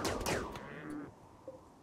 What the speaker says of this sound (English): Cambiar, who can simply fire volley after volley with the charge rifle